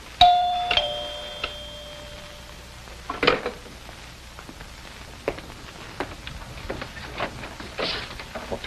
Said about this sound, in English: Who rang the bell?